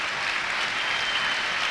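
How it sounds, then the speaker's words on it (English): A football crowd at Meadow Lane applauds steadily as a substituted Notts County player leaves the pitch, a dense sustained wash of clapping filling the stadium. "He takes in the applause of those here at Meadow Lane"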